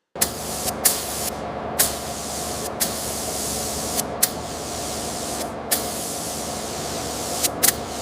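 Spray gun applying the first coat of black paint to the fenders of a 1902 Stanley Steamer: a steady, close hiss that carries on throughout, with brief breaks and soft clicks between passes.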